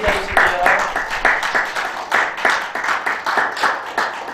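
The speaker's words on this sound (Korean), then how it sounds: "나머지 박수 한번 주시고요" Audience applause at a business agreement signing ceremony between Yeongcheon city, Pizza Alvolo and Sinnyeong Nonghyup, with steady clapping from a modest crowd mixed with a voice speaking over it.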